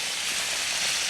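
Pork chops sizzle in a skillet while browning, a steady close hiss of frying fat running evenly through the whole short stretch with no voices over it.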